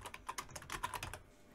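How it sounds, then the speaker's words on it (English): Computer keyboard keys tapped in quick, uneven bursts of close, light clicks, fairly quiet and with no voice over them. "then you can start typing"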